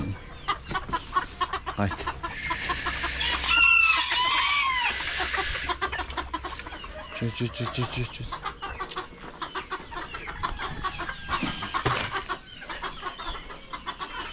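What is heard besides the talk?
roosters clucking and crowing while being caught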